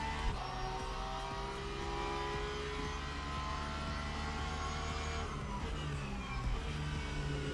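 Race car engine in the racing sim Le Mans Ultimate drones steadily and loudly throughout, holding a sustained tone with small shifts in pitch and no talk over it.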